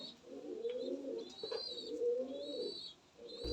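Giribaz and Madrazi high-flying pigeons coo in a continuous low, rolling murmur at a pigeon farm, close and quiet, with faint chirps above and no talking.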